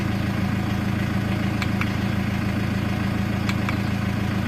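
A 2008 Triton diesel pickup truck engine idles steadily at about 825 rpm on a morning start, at close range, a constant low rumble with an even mechanical throb and no voices.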